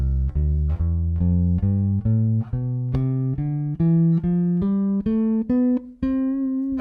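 A bass guitar climbs a scale one plucked note at a time, each tone sustained and evenly spaced, clear and close with no talking.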